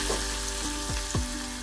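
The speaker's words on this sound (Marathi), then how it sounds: "ही फोडणी चटणीत टाकून घेऊया।" Hot oil tempering with chopped curry leaves poured into chutney, a short steady sizzle with a few bubbling pops, close and moderately quiet, no talking.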